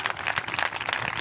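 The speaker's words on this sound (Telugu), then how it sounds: "గట్టిగా చప్పట్లు కొట్టగలమా?" Applause from a church congregation during a Telugu Christian sermon, a brief burst of many hands clapping, moderately loud and without voices.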